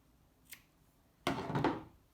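Scissors snip through knitting thread on a spool-knitted bunny, a faint click followed by a louder, close crunching cut lasting under a second.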